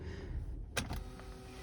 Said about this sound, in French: J'adore cette cinématique des sièges qui bougent à chaque fois